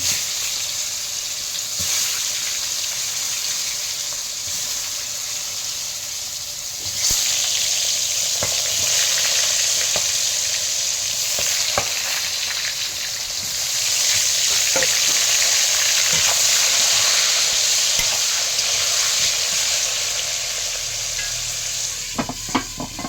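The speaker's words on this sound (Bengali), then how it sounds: "আলুটা আমি কষে নিলাম" Potatoes sizzle steadily in a hot pan for Bengali sukto while a spoon repeatedly scrapes and stirs them, giving clicks and knocks over a continuous frying hiss with no voices.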